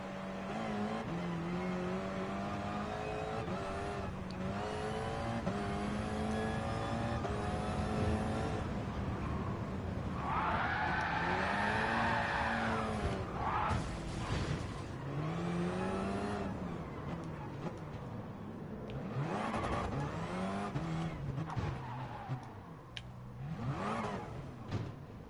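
Engine of an Expo car in a GT Sport drag race video game, revving hard and climbing through gears with sharp shift drops, tire squeal and a sustained high whine, loud and continuous throughout.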